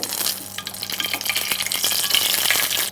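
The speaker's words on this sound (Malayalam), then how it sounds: "നമ്മൾ നട്ട്സ് ഒന്ന് ചോപ്പിച്ചെടുക്കാം." Nuts sizzle and crackle as they fry in ghee in a small pan while making ash gourd halva, a close, busy frying sound with occasional stirring scrapes.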